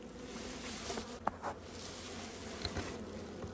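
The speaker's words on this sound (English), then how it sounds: "Good population of bees." Bees buzz in a swarm-catch hive, a quiet steady hum with a few nearby buzzes and faint knocks.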